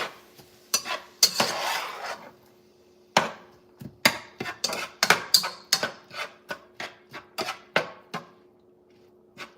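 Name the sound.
stirring Zuppa Toscana soup in a pot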